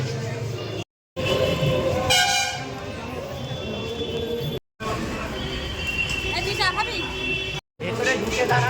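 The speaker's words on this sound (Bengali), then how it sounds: "আমরা ট্রেনে বসে পড়েছি, আমরা যাবো নৈহাটি।" Rumble and clatter of a train rolling toward Naihati under frequent talking, with a horn sounding midway and short gaps breaking the steady noise.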